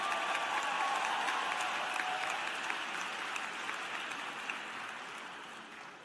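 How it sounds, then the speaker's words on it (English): Graduation commencement audience applauding the class of 2016 graduates, a dense, steady wash of many hands clapping that fills the hall and slowly tapers. "Please give yourself a round of applause."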